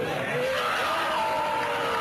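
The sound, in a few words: crowd cheering as effigy is lit, Bohemian Grove documentary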